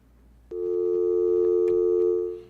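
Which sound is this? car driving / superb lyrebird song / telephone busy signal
telephone busy signal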